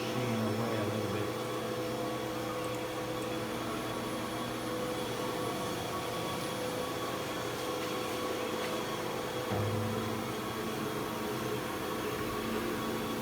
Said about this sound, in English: Let me move the machine away a little bit.